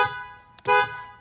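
A repaired 2006–2012 Ford Fusion horn blasts twice, a short toot followed by a longer, louder honk, both up close and with no talk over them.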